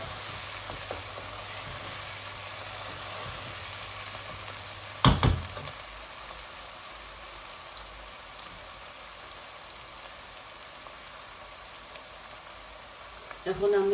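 Onions fry with ginger, garlic and garam masala in a pan, a soft continuous sizzle with a sharp clatter of stirring midway and a voice speaking briefly.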